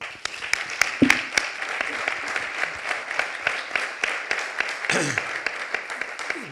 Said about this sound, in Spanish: un aplauso al cielo